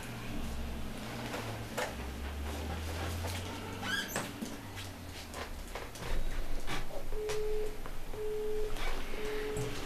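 Telephone busy signal during a local council meeting in Scorteni, Romania: three short, evenly spaced beeps repeat near the end, following soft shuffling and handling noises in a quiet room.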